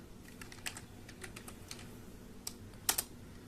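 Commands being typed on a computer keyboard, a quiet run of light key clicks with a couple of sharper taps near the end, close but faint over a low room hum.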